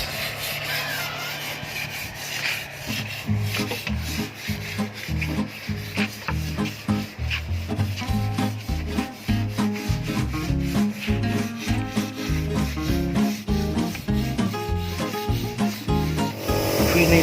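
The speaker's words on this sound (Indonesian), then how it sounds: "Setelah lapis pertama meja, kita amplas" An old teak table is hand-sanded after its first coat of melamine lacquer: a long run of rapid, close rubbing strokes that stay steady and fairly loud throughout.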